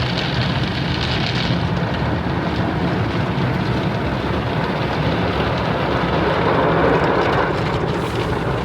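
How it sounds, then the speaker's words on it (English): An automatic car wash sprays and scrubs a car in a steady, dense broadband wash of water and brushes, heard loud and close from inside the vehicle throughout, with no talking. "Eli, we in a car wash."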